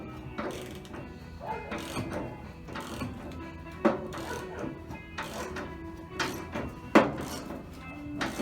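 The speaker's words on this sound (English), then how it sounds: "Now we're going to tighten bolt number 2" Metal fender bolt on a 1968-72 Chevelle GM A-body being tightened with a ratchet, giving a series of close, sharp clicking and clunking mechanical strokes with a couple of louder knocks.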